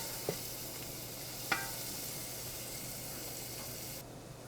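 Golden, soft onions frying in a pan give a low steady sizzle with two brief stir clacks, fairly quiet and without voices.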